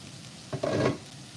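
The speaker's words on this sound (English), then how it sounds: "Don't you love that sizzling sound?" Peppers for tacos hit a hot pan, giving a brief soft burst of sizzle and stirring that swells for half a second then settles back to a low hiss.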